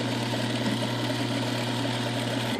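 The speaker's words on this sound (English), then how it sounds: "So we're going to sew right now" A Juki DDL series lockstitch industrial sewing machine runs steadily up close, a continuous humming motor with a fast, even mechanical vibration and no talking.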